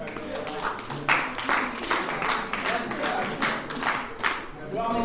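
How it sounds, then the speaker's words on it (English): An audience in a college class claps and applauds in uneven bursts, with people talking over the clapping throughout. "We all need applause, right?"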